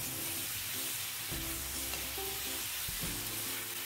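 Marinated prawns sizzling and frying in a pan while being stirred and mixed, a steady close crackle with periodic scraping strokes and no talk.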